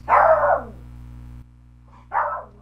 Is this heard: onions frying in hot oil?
no